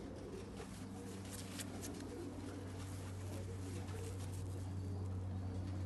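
A pigeon coos softly over a steady low hum and background noise, its repeated calls faint and slightly distant.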